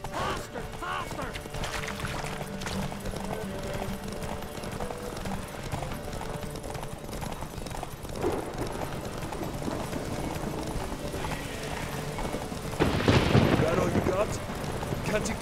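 Horses gallop in a race in The Witcher 3, a continuous drumming of hooves with scattered voices shouting, and a louder burst of hoof clatter and commotion near the end.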